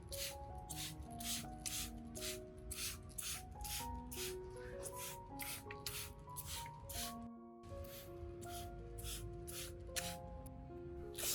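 A hand spray bottle mists orchid roots in a quick, steady series of close squirts, with soft background music running underneath.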